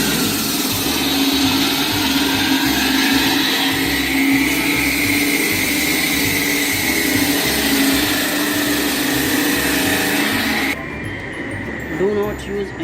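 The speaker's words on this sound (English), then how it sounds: "And also block only cut by block cutting machine." A block cutting machine slicing an AAC masonry block, a loud continuous whining motor drone with a rhythmic low pulsing and a rising-falling cutting tone, easing off toward the end.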